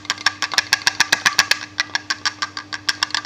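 A loose strobe light module knocks around inside its windshield strobe housing as it is shaken, giving a fast, regular run of sharp, close rattling clicks over a faint steady hum.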